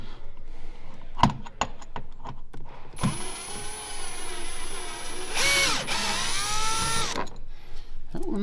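A power drill or impact driver runs in a sustained whine for about four seconds, removing bolts from the passenger side box of a Harley-Davidson motorcycle in a garage, with a pitch shift midway and scattered clicks and handling noises before and after.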